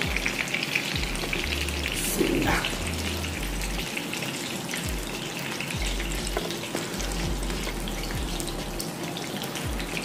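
Rohu fish pieces coated in masala frying in hot oil, a dense continuous sizzle with occasional pops and faint utensil scrapes throughout.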